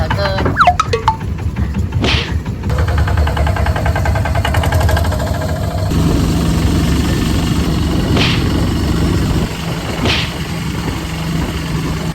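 Loud, rumbling long-tail boat engine chugging steadily throughout, with a few sharp knocks and clatters near the start, at sea off Koh Lipe, Thailand.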